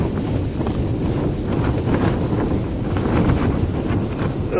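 Wind buffeting a microphone on Low Fell in the Lake District while a tent is pitched, a steady loud low roar with gusty surges throughout and no voices.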